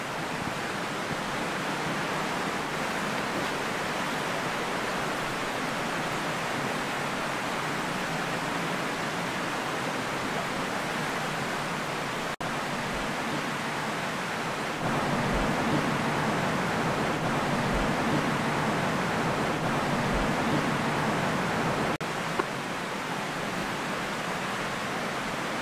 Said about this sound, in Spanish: Aquí es por donde pasa el río.